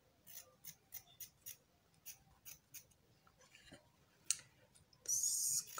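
Scissors trim a sewn fabric collar with a run of about nine quiet, evenly spaced snips close by, then a few softer clicks and a louder burst of fabric rustle at the end.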